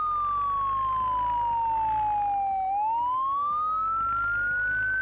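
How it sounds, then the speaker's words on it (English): A vehicle siren in the zombie survival game Project Zomboid wails steadily and loudly, its pitch sliding down to a low point midway, then rising again, with a faint engine rumble beneath. "we're gonna try out the siren here, so this should attract a ton of zombies from the area."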